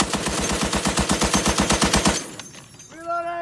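A long machine gun burst fires as a rapid, even string of loud close shots for about two seconds, then stops, and a voice follows.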